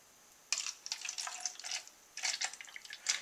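Liquid ceramic glaze pours into small test cups in short, quiet bursts of trickling and splashing, with brief pauses between pours, close up and soft, no voices.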